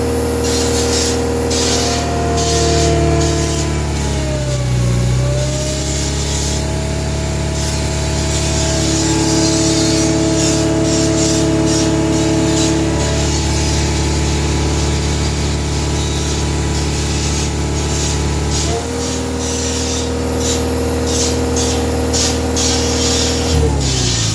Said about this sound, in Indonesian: Ini sudah masuk modenya high idle ya